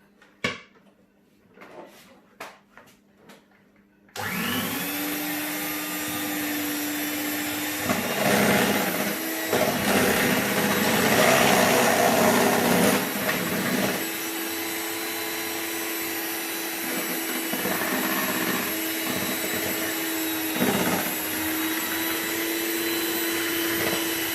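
An electric mixer whirs steadily through homemade ice cream mixture, a constant loud motor drone that rises slightly midway. A few clicks and clatters come just before it starts.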